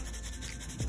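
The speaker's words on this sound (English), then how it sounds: "It is buffing very easily." A small buffing block rubs across a fingernail to smooth it during a dip-powder ombre manicure. A faint, close, brushing scrape runs for about a second, ending in a slightly louder stroke.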